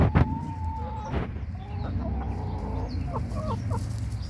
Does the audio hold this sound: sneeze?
no